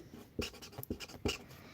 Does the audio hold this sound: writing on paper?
yes